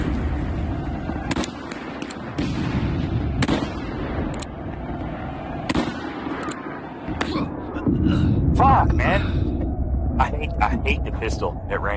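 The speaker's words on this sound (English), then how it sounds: "Pistol at range. One of the shots hit, the others didn't." In the Civil War video game War of Rights, several sharp pistol shots crack at intervals amid background battle noise and other gunfire, while players talk throughout.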